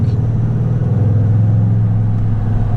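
Toyota Tundra pickup with a TRD exhaust and cold air intake, its engine droning in a steady, loud, deep rumble that holds throughout with a slight rise, close by and with no voices.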